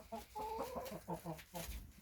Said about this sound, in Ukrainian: Ось ці кури-пенсіонери тут.